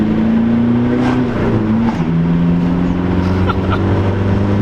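A 90-horsepower VW Golf TDI diesel engine pulls hard at full throttle, a steady loud drone that rises in pitch across the run, then drops after a gear change.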